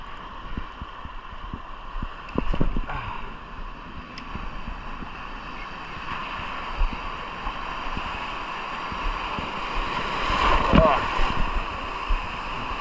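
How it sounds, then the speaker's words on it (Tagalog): Rough sea around a small fishing boat gives a steady wash of water and wind noise, with a louder surge near the end and a faint voice under the rushing. "Laking alon talaga."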